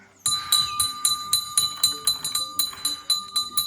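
A small bell dinged rapidly about a dozen times in an uneven rhythm, each strike bright and ringing, close by.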